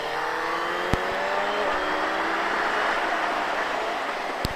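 A motorcycle accelerates hard out of a corner, its engine note rising in a continuous, fairly loud roar with a couple of sharp clicks.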